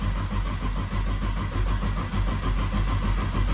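A Nissan RB six-cylinder engine in a rally car cranks over on the starter, with steady, even pulses repeating close and moderately loud throughout, and no voices.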